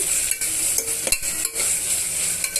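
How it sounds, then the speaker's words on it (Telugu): Onions, green chillies and ginger garlic paste frying in a pan, a steady bright sizzle broken by several scraping stirs and a couple of sharp utensil knocks. "ఇవన్నీ బాగా మిక్స్ చేసుకొని వేయించేసుకోవాలి"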